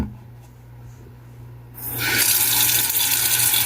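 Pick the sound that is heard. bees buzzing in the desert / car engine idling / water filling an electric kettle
water filling an electric kettle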